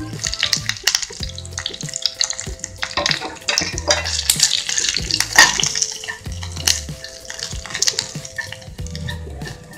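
Grated fresh coconut frying in a pan gives a steady close sizzle, with intermittent scrapes and stirring clatter from a utensil against the metal.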